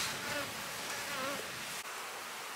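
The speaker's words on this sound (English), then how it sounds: "It's a full box of bees." A full box of honeybees in a hive colony gives a dense, continuous buzzing hum, fairly faint and unbroken throughout.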